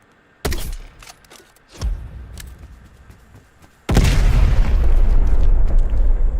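In Black Ops Cold War, a spawn tube fires with a sharp close blast, then a dull thud as it lands, followed by a sustained loud roaring burst that fills the rest of the moment.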